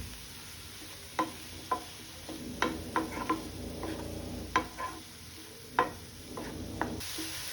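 Curry leaves sizzling in a frying pan for cabbage fry with peas and carrots, a quiet crackle under sharp intermittent spatula taps and scrapes, about ten distinct clicks spread across the clip.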